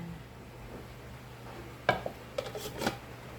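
A lid set onto a cooking pot of ginataan vegetables with sardines, giving a quick metallic clink followed by a few lighter taps and rattles, close but soft against a quiet kitchen background.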